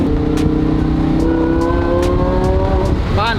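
Supercharged Lamborghini Huracan V10 accelerating hard, its loud engine note climbing steadily through the rev range with a rising harmonic whine, then a quick shift near the end as the revs drop and surge again.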